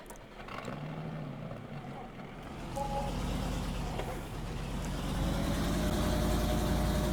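Truck engine idling in Farming Simulator 19, a steady low rumble that grows slightly louder toward the end, with a voice talking over it at the start.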